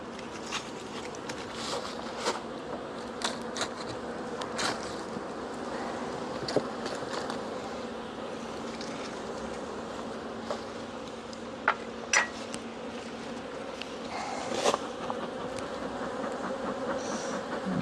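Many honeybees buzz continuously around an open hive in Connecticut, a dense droning hum with occasional louder passes and soft clicks and taps.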